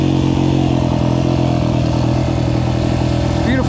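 A dirt bike engine runs loud and close on a forest trail ride, a continuous throbbing thrum with slight revving throughout.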